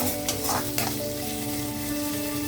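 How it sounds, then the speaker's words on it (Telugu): Onions and potatoes frying with cumin in a pan, a loud continuous sizzle with a couple of stirring scrapes near the start, close and steady throughout. "ఇప్పుడు జీలకర్ర వేగిపోయింది. ఉల్లిపాయలు బంగాళదుంప యాడ్ చేసేద్దాము."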